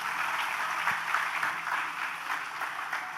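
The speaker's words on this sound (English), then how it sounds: "Let us show our appreciation once again for that wonderful performance with a round of" Steady applause from the audience at a school graduation ceremony after a performance, moderately loud, with scattered individual claps standing out from the mass.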